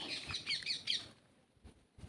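A parrot gives a quick run of sharp, high chirping calls, then falls silent, leaving only faint background noise.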